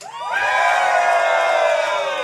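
A live crowd of Iowa State Cyclones fans cheers and whoops together in a loud, sustained roar that swells quickly and holds for about two seconds.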